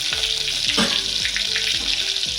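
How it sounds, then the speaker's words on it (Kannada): Mustard seeds, cumin and green chillies sizzle and crackle in hot ghee, a steady close frying hiss with faint repeated scrapes of stirring and no talk. "ತುಪ್ಪ ಕಾದಿದೆ, ನಾನು ಸಾಸಿವೆ ಜೀರಿಗೆನ ಹಾಕ್ತಾಯಿದ್ದೀನಿ."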